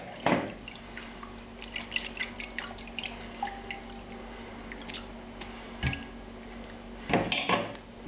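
Pork broth strains through a strainer in a kitchen, with quiet drips and light clinks of metal and dishes, plus a few sharper knocks near the start and near the end.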